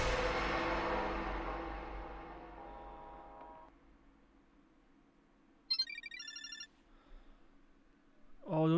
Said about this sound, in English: I feel like I can hear another phone in the distance.